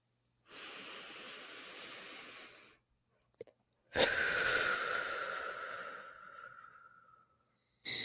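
Slow, deep breathwork during a guided somatic breathing practice: a long, soft airy inhale, a brief pause, then a fuller, louder exhale that trails off, close and alone.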